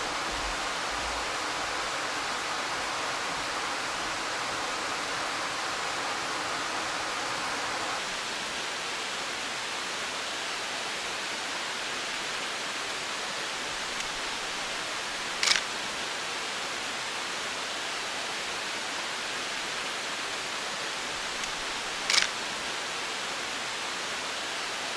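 A waterfall's rushing water forms a steady, broadband roar that holds evenly throughout, slightly fuller in the opening seconds, with two brief sharp clicks near the end; no voices are heard.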